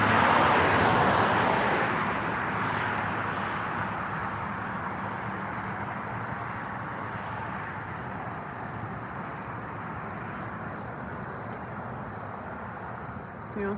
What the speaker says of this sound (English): it's so noisy with the traffic